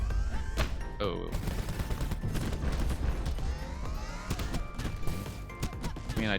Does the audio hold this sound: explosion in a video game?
yes